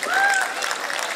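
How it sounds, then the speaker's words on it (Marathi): Crowd clapping at the Riddhi Siddhi Paradise project launch event, a short burst of fairly loud applause that holds steady through the moment. "मजहर खानसाठी जरा एकदा जोरदार टाळ्या होऊन जाऊ द्या"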